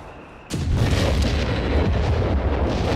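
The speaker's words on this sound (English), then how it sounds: "And we got another massive artillery barrage, hoping to hit something here." Artillery barrage in Company of Heroes 3, a sudden loud broadband rumble starting after a half-second lull and sustained as heavy booming explosions through the end, with no talk.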